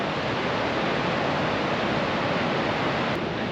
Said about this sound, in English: This is not the biggest waterfall in Iceland.